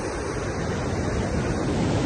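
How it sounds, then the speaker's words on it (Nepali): The Budhiganga river flows steadily in rural Nepal, making a continuous broadband rush of water with no pauses or distinct splashes, heard up close and alone. "अनवरत रूपमा बगिरहने नदी यो गौमूल नदी, बुढीगङ्गा नदी।"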